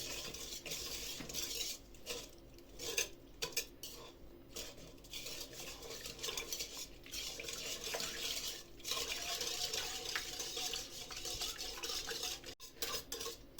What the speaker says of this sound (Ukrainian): І це все ми перемішуємо, щоб в нас розчинилися дрожжі.